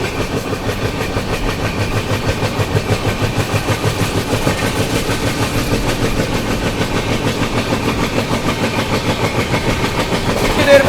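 The Kashi Vishwanath Express, train 15128 running New Delhi to Banaras, rolls steadily along the rails, its loud continuous rumble carrying a regular clickety-clack rhythm heard from on board, with no talk.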